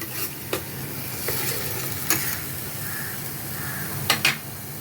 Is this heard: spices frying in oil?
yes